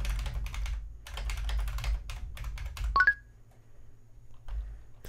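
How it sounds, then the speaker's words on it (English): Fast, hard typing on a computer keyboard makes a dense, close clatter of keystrokes in bursts, then briefly pauses around a couple of short electronic beeps before quieter tapping resumes. "this is where I just hammer on the keyboard"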